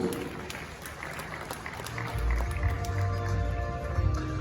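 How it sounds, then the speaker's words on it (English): Applause breaks out at a Ghanaian media awards ceremony, scattered clapping from a crowd with a low rumble joining partway through, moderately distant. "Ladies and gentlemen, one more big round of applause."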